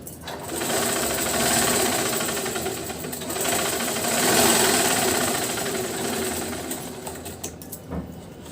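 A sewing machine stitches a double katori blouse, running in a steady, continuous whir with a fast mechanical rattle for several seconds and briefly easing near the end.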